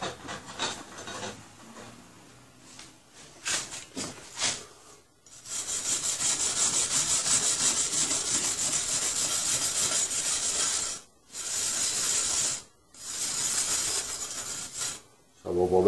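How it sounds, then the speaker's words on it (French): A small steel wire brush scrubbing a rusty steel plate, rapid raspy back-and-forth strokes that start in short bursts and then run in a long, loud continuous stretch broken by brief pauses. "je vais essayer avec une petite brosse d'acier"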